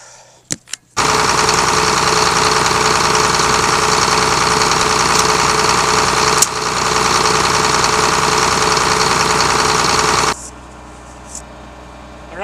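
A tractor engine runs loud and steady close by, a dense rattling drone held for about ten seconds before cutting off abruptly, with a few brief knocks at the start and no talk.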